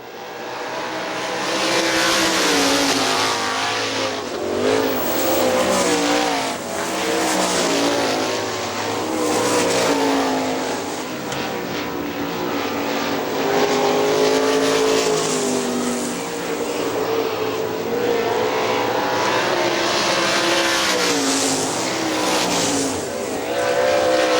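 Sprint cars racing on the dirt track at Hartford Speedway Park fill the air with loud, continuous engine roar, rising and falling as the cars pass and accelerate through the turns.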